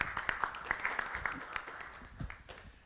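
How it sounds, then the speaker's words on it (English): Brief scattered applause, a small crowd clapping unevenly, faint and somewhat distant, fading out toward the end. "One round of applause again."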